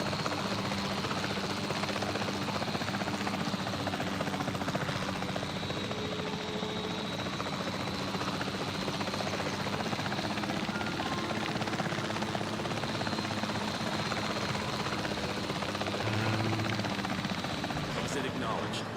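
Helicopter in the video game Jurassic World Evolution 3, a steady droning rotor hum held throughout, with a person talking over it.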